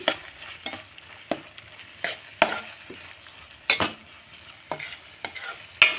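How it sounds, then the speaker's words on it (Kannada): A spoon scraping and stirring tomato gojju in a pan with a spoonful of homemade garam masala powder, giving irregular close clinks and scrapes over a faint sizzle, with no talking. "ಸೇರಿಸ್ಕೊಂಡು ಹೀಗೆ ಮಿಕ್ಸ್ ಮಾಡ್ಕೊಳ್ಳಿ"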